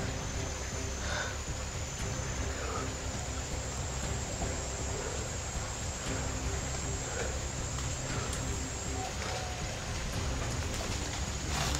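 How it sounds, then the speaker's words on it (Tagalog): Steady rain falls all around, a dense continuous patter on surfaces with a low rumble beneath and no voices. "Umuulan na pala."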